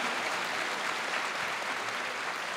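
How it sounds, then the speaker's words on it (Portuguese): A church congregation applauds in a steady, even wash of clapping that carries on without pause, moderately loud and diffuse, with no voices standing out. "Aplauda essa bênção aí, que nasceu para a glória de Deus."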